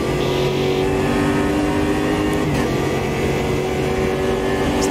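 A Metalmoro race car engine in the Automobilista 2 racing simulator holds a loud, steady high-revving drone down the main straight, with a constant pitch and no talking.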